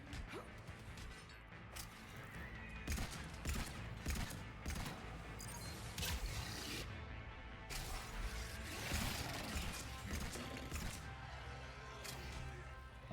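Heavy pistol fire in the video game Mass Effect 3 cracks out in rapid, repeated shots over a dense, continuous din of combat crashes and mechanical clatter.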